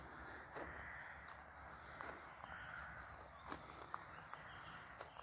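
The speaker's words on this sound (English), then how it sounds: "the birds chirping" Birds call softly in quiet countryside, a few faint chirps and short tweets scattered over a low, hushed background.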